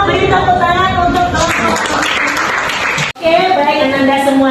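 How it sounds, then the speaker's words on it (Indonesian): Applause from a classroom audience of students, a dense broadband clatter of clapping with voices mixed in, running steadily before a brief break and resuming. "beri tepuk tangan untuk"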